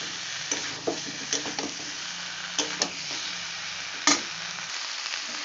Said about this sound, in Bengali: এবার যে কপিগুলো ভেজে রেখেছিলাম সেগুলো দিয়ে দিলাম আবারও ভালো করে কষিয়ে নেব